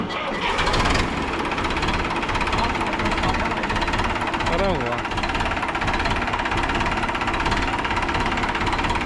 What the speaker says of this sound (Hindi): स्टार्ट करके दिखाया ट्रैक्टर ने, आवाज का एक अलग मजा है ट्रैक्टर की